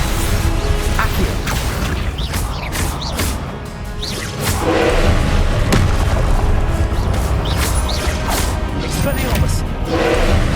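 Accio summoning spell in Hogwarts Legacy amid spell combat, a run of whooshing casts, sharp impacts and booming hits over a loud, busy battle bed, with a voice calling out spells.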